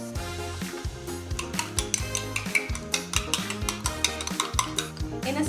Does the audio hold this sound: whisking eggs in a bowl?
yes